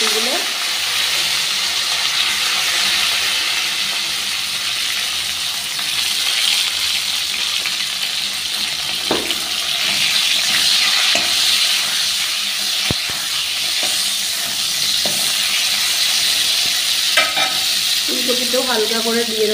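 Cauliflower florets fry in hot oil left from frying potatoes, a steady loud sizzling hiss broken by scraping stirs and occasional clinks of a spoon against the pan, close and continuous.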